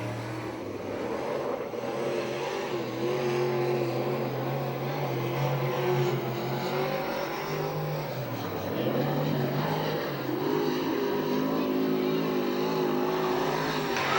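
A USAC/CRA sprint car runs laps on the Santa Maria, California track, its engine a continuous loud drone that rises and falls in pitch as it passes, with an announcer's voice faintly underneath.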